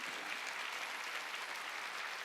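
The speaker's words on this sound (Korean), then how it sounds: "믿으면 박수쳐" Church congregation applauding during a sermon, a soft, distant, steady wash of clapping that stays even throughout.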